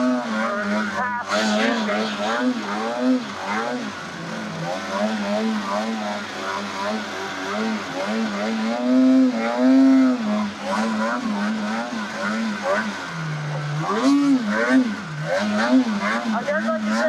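A snowmobile fitted with an SLP clutch kit rides along a trail, its engine drone steady and loud with rising and falling pitch as the throttle changes, with talking over it.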